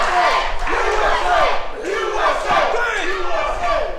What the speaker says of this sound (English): But listen to this crowd.